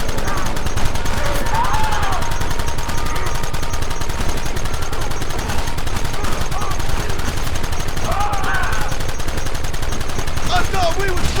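A shootout in the Western video game Red Dead Redemption gives continuous loud rapid gunfire, shots layered thickly and steadily, with shouted voices mixed in throughout.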